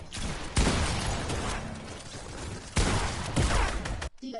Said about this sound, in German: ich schieße nur